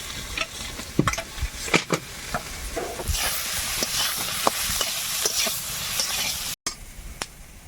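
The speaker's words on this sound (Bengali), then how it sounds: "তেলের মধ্যে আলুটা দিয়ে ভেজে নেবো" Potatoes frying in hot oil in a home kitchen pan, a steady close sizzle with scraping, clattering stirs from a spatula, continuous throughout.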